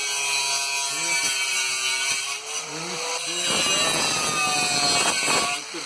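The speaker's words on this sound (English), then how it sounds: "we are grinding those rivets" Grinding tool working on rivets on a food truck roof: a harsh, steady metallic grind with whining tones, rising to a rougher, louder burst in the second half, with a voice speaking over it.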